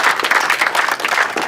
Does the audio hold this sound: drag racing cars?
no